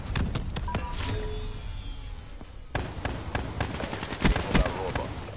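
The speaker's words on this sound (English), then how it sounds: "I'm gonna take out my shotgun" Rapid shotgun blasts in a Call of Duty game fire in quick irregular bursts, sharp cracking reports close and loud with a brief lull mid-way before a renewed volley.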